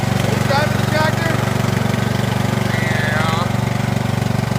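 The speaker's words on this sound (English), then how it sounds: "Are you driving the tractor?" A riding lawn mower tractor's engine runs nearby with a steady, rapid throbbing chug while a child and an adult talk over it.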